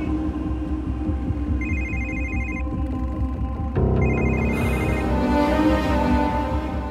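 A telephone rings repeatedly without being answered, its electronic ringtone chirping in short bursts over a dense, loud background of music in a film scene.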